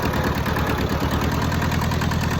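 An old, rusty Hinomoto compact tractor engine idling at low RPM, a loud, steady low-pitched chugging rumble with constant vibration, close up and continuous without any voices.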